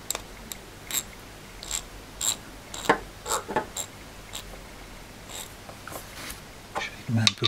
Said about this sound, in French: c'est un 36 dents, on l'entend plus